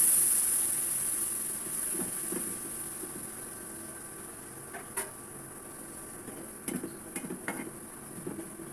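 Spice paste sautéing in a kadai with added salt and a little water, a faint steady sizzle and hiss under occasional sharp scrapes and clinks of a spoon stirring against the metal pan.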